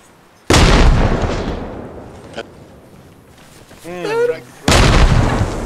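Two loud grenade blasts in the video game Arma Reforger, each a sharp boom with a rumbling tail, separated by a quieter stretch with a brief voice-like chirp between them.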